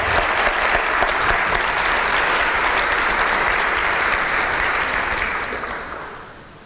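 A volunteer awards audience breaks into a round of applause after a list of nominees is read, a dense, steady wash of many hands clapping that holds strong for several seconds before tapering off at the end.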